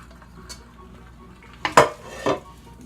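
Hot cooked cauliflower being poured from a pot into a kitchen strainer, heard as a few sharp metallic clanks and rattles after a quiet start.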